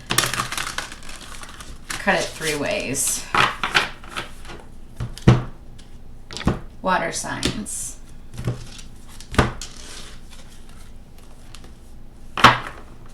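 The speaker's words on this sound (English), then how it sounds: "I'm going to shuffle it one more time and cut it" Papery card riffles and soft taps as a deck of oracle cards is shuffled and cut, in scattered bursts under a person talking, with sharp snaps standing out now and then.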